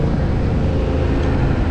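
A 2024 Yamaha MT-07 running on its factory exhaust, a quiet 700 cc engine producing a continuous low drone close by, mixed with road and wind noise, with no talking.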